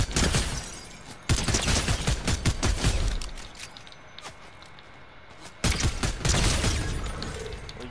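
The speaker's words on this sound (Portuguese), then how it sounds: "Deram uns tiros ali." Fortnite gunfire crackles in rapid, dense bursts, a loud volley of close shots followed by a quieter lull, then another burst of rapid fire near the end.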